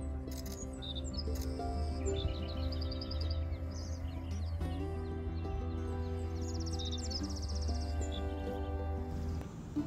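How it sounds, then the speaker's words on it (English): Lincoln's and Savannah sparrows singing up close near Homer, Alaska, with short trilling and buzzy song phrases repeated over a low constant background hum. "a highlight was watching both Lincolns and Savannah Sparrows sing up close for great views"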